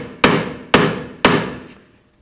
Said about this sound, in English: Now I'm gonna try to hammer the hub off.